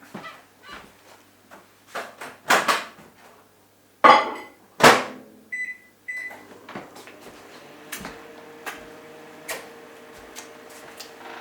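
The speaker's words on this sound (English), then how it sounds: "One minute in the microwave." A microwave oven heats a chocolate pumpkin pie filling for one minute: several clunks and knocks, a pair of short keypad beeps, then a low, steady running hum that continues to the end.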